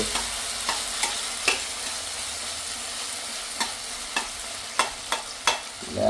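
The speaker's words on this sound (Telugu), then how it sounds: "టమాటాలు వంకాయలు చక్కగా లేలేతవన్నీ మగ్గిపోతున్నాయి ఇప్పుడు" Tomatoes and eggplants cooking gently in a pan give a soft steady sizzle, with a utensil stirring and scraping in a few sharp clicks and knocks spread across the clip, and no talking.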